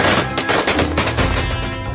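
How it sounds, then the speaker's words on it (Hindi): Diwali firecrackers explode in a dense, continuous string of sharp cracks, loud and close, with overlapping bursts for the whole two seconds. "पटाखों की आवाज इस जोश को दोगुना करती है"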